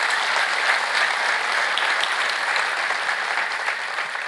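A church congregation claps continuously during a pastor's sermon, a steady, fairly distant wash of applause with no talk over it.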